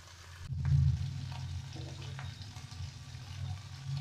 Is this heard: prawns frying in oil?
yes